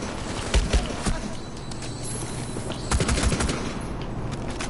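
Gunfire aimed at a bomber in Rainbow Six Siege from Blackbeard's D50 pistol, a few sharp, loud shots in short bursts over continuous game noise, with faint background sounds and no talk.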